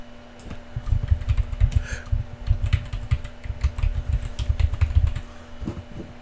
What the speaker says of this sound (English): I know it's interesting to see me typing without really seeing what I'm typing.